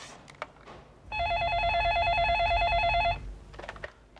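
A telephone rings in a home during a family comedy scene, one loud, steady electronic trill lasting about two seconds, with faint room sounds before and after.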